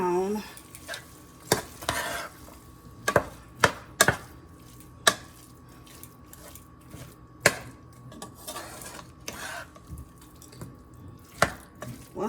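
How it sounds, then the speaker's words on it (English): Meat browning in a pan is stirred with a utensil, sharp scraping clacks against the pan recurring irregularly over a continuous close sizzle, with no talking. "I'm going to keep stirring until the meat is"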